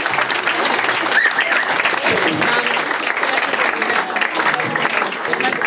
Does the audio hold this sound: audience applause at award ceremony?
yes